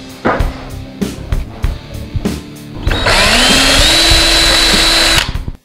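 A power drill drives a second screw into the runner of a small wooden table saw sled: a few short taps and bursts, then a long steady whir that holds for about two seconds before stopping, close and loud.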